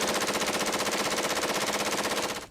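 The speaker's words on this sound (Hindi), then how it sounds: "गोलियों का ऐसा शोर कि सुनने वालों की रूह कांप उठे।" Rapid automatic gunfire, a continuous dense stream of closely spaced shots for over two seconds, loud and harsh, then cutting off abruptly, with no voices.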